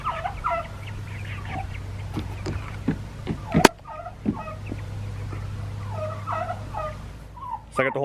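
A turkey in a barn with its flock, giving repeated bursts of gobbling, fairly close, over a low steady hum and a few sharp knocks.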